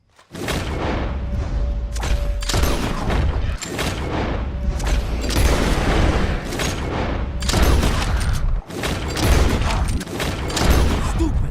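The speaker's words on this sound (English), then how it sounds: "whoever shoots 4 birds out of the sky first wins" Rapid gunfire in Red Dead Redemption 2 as players shoot birds out of the sky in a contest, with loud, dense, overlapping shots and booms filling the whole stretch.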